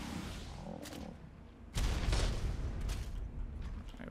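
A rocket launches in ARK Ascended PvP combat, a sudden loud whooshing blast that kicks in partway through and roars on with crackling, sustained noise until the end.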